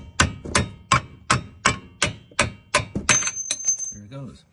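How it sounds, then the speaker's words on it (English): A soft rubber mallet hammers a suspension arm bolt out on a 2015 Kia Optima, using the shock absorber bolt as a drift. Eight sharp, evenly spaced metallic knocks ring out close up, followed by faster tapping and a brief ringing tone. "drive the other one out with a soft rubber mallet so that you don't wreck any of the threads"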